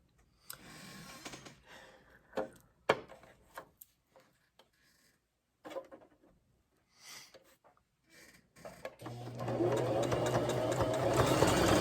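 A sewing machine stitches fabric for a face mask in short stop-start bursts, then settles into a steady, louder whir of continuous stitching toward the end.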